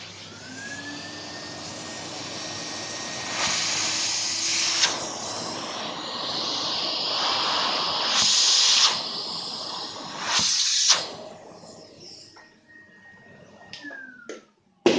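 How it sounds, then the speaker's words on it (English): A vacuum cleaner hoovers dried, powdery dust off a workstation motherboard, its steady loud whining roar shifting in pitch as the nozzle moves across the board, then winding down and cutting off near the end. "So I'm going to Hoover it straight off, I think."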